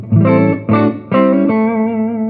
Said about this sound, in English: So here is the EART on the neck pickup.